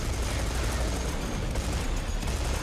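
Continuous dense gunfire from the video game Serious Sam 4, a loud unbroken roar of rapid shots and booms filling the whole stretch, with no talk on top.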